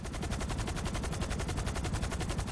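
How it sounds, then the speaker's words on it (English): Continuous rapid gunfire in Grand Theft Auto on PC, a dense burst of automatic shots repeating at a fast, steady rhythm, loud and close for the whole stretch with no talking. "Man, he just shot himself."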